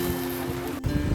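Strong wind blowing on a New Year outing in Japan, a loud broadband roar buffeting the microphone with gusty surges, briefly dipping before a heavier rumbling gust.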